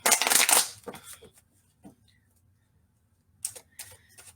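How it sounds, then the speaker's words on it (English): Tarot cards shuffled by hand, a loud crisp riffle at the start, then a few soft taps, a quiet pause and another brief burst of card flicking. "So while I'm shuffling and waiting for the cards to show themselves"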